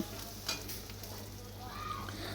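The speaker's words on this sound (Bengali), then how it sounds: "চেরা কাঁচা লঙ্কা দিয়ে ভালো করে কষিয়ে নেব" Potatoes frying in a pan with salt, turmeric, chili powder and slit green chilies, a soft steady sizzle with a few light scraping stirs, fairly quiet and close, with no talking.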